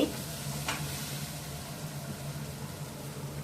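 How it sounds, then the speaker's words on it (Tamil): Onions and tomatoes sauté in a pan with a steady soft sizzle, a brief scrape of a spoon early on, and a low hum running underneath throughout. "நல்லா வெங்காயம் தக்காளி கொஞ்சம் வதங்கட்டும்."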